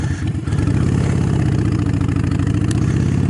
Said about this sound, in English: When you stop, you can use engine braking like so.